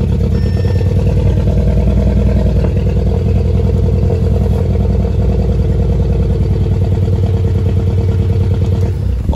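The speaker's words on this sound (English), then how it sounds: "I know it's running pretty bad" An Audi S3 engine with a 104-octane tune idles loud and close, running rough with an uneven, shaky chug and some rattling, steady throughout.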